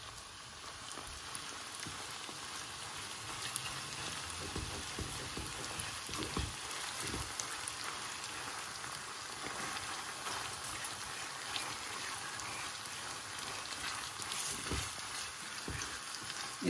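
Minced meat frying in ghee in a pan, giving a steady, dense sizzle and crackle that holds evenly throughout with no talking.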